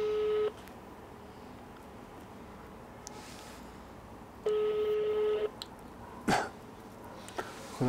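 A phone call to a father being placed: two steady, fairly loud electronic ringing tones, one at the start and another about four seconds later, with quiet room noise between them and a short thump near the end.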